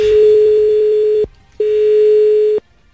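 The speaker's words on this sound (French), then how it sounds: "C'est bizarre votre sonnerie belge." Belgian telephone ringing tone: a loud, steady electronic ring at one pitch, sounding for about a second and a half, pausing briefly, then sounding again for about a second, close and clear.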